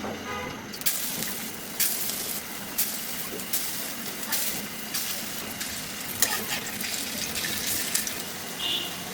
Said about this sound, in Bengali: তেল গরম হয়ে গেছে দিয়ে দেবো বড়াগুলো